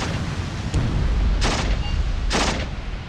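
Two loud tank gun shots fire about a second apart in the WWII strategy game Achtung Panzer Operation Star, each a sharp broadband blast over a steady rumbling battle background, with a softer thump just before.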